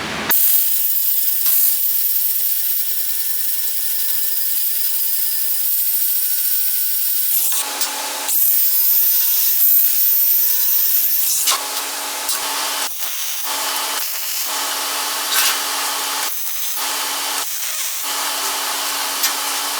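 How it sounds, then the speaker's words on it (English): A power grinder works steel for a homemade paper roll bracket ahead of welding, giving a loud, continuous abrasive whine that cuts off briefly a few times and then resumes in short repeated passes. "So let's get that grinded off real quick, and then we'll start welding."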